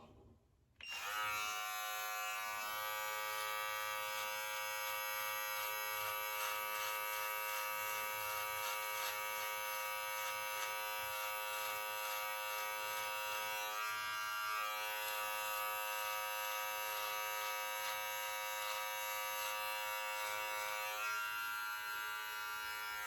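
An electric beard trimmer fitted with a zero blade switches on after a moment of quiet and then hums with a steady close buzz, its pitch wavering slightly as it edges and trims beard hair.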